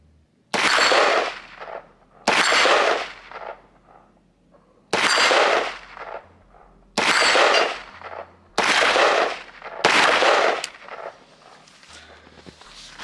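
Six sharp Wilson Combat Recon rifle shots fired outdoors in deep snow, spaced roughly two seconds apart, each loud crack followed by a short decaying tail, with no talking.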